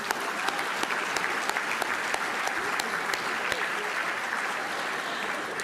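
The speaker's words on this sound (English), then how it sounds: "can we just give another hand of applause for all that bidding?" Sustained applause from a fundraiser audience in a large room, many hands clapping steadily at an even level for several seconds with no break.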